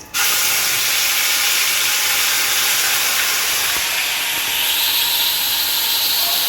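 Masala paste hits hot oil with curry leaves in a pan for a skate fish curry, bursting into a loud, close, continuous hissing sizzle that holds steady throughout without talk.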